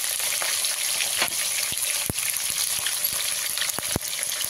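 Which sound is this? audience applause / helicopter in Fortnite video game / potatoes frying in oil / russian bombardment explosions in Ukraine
potatoes frying in oil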